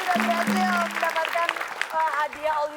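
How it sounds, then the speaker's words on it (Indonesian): A studio audience on an Indonesian quiz show claps for team B, light applause running beneath a host's lively speech. "Kasih tepuk tangan buat Hai, tim B."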